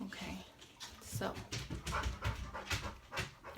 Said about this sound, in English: if you hear all that panting in the background, that's the dog